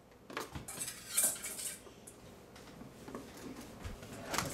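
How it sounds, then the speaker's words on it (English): Plastic clatters and clicks as the lid of a Rival Frozen Delights ice cream maker is set in place, a few close, light knocks and scrapes without any talking. "We're going to put on our lid."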